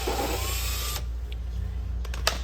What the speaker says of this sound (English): Shove a smaller drill through that slot, back to the rear of the slot, and then go ahead and pop a hole